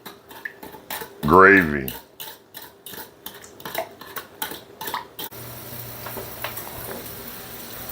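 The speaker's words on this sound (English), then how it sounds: "stir all that together to make kind of a savory" A spoon stirs brown sugar into a savory sauce in a pot, giving light repeated clinks and scraping against the metal, with a short spoken word near the start.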